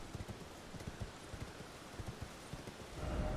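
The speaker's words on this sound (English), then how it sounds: "I'm running away on a horse." A horse galloping in the video game Elden Ring, rapid rhythmic hoofbeats thudding close by at a steady pace, with a rushing swell of noise in the last moments and no voices.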